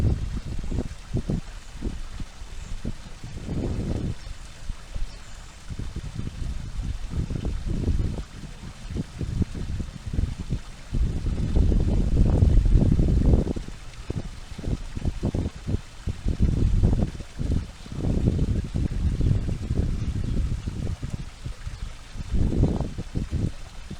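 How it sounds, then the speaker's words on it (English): A waterfall pours on a pretty day in Osage City, Kansas, a continuous rushing wash that surges and fades in uneven swells, loud and close throughout. "just listen to this waterfall"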